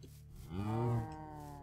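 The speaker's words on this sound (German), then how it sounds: "Kühe, Kühe." Cows moo in the Minecraft video game, one drawn-out, low, harmonic moo swelling in the middle over soft background game ambience, with no talk.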